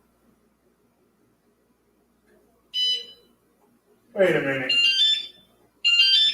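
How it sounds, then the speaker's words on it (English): A motorcycle alarm sets itself off with short bursts of shrill, warbling electronic tones separated by quiet gaps, and someone speaks briefly between them. "Why the alarm going off by itself?"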